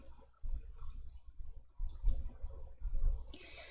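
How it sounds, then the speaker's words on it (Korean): A computer mouse clicking during spreadsheet work in Excel, a few soft, close clicks and taps spread over several seconds against low background noise. "아래쪽에 A18번 셀을 클릭"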